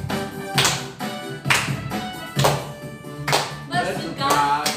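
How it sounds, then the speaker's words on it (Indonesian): Children clap along to an Indonesian worship song, sharp rhythmic claps landing about once a second over singing and music. "Tepuk tangan yuk."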